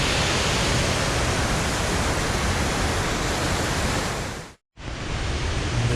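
Steady roar of a waterfall in a scenic area near Guadalupe, Colombia, a dense broadband rush heard close and continuous, cut by a brief silent gap before resuming.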